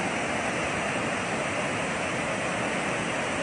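Floodwater released from Magat Dam rushes in a steady, dense roar that holds unbroken and loud throughout, with no talk.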